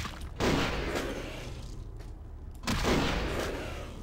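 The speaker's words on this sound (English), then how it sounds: "let's start with the shotgun then" Two heavy shotgun blasts in Vampire: The Masquerade – Bloodlines, each a loud, close boom with a rumbling tail, spaced about two seconds apart.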